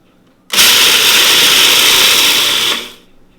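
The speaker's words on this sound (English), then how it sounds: "old-fashioned rolled oats. I'm going to be grinding these into a flour." Old-fashioned rolled oats are ground into flour in a food processor, a loud, steady motor whir that starts abruptly, holds for about two seconds and then winds down.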